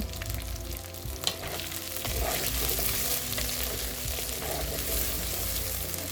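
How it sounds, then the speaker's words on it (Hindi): Finely chopped onions and green chillies fry in hot oil with crackled garam masala for mutton chusta, giving a steady, continuous sizzle at moderate volume with no voices. "ब्राउन होने तक भून लेंगे।"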